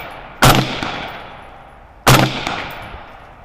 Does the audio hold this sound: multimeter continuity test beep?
no